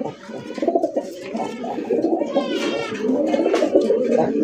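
Domestic pigeons at a pigeon sale coo continuously and close by in low, rolling throaty calls that build in loudness toward the end.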